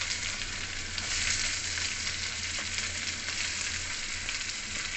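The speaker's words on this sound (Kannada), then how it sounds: "ಇವಾಗ ನಾವು ಮಂಚುಕಾಯಿ ಮತ್ತೆ ಈರುಳ್ಳಿ ಹಾಕ್ತಾಯಿದ್ದೀವಿ" Capsicum and onion sizzling in a pan as a curry is cooked, a steady, even hiss of frying that runs on without talk.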